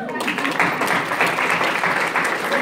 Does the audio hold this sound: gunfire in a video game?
no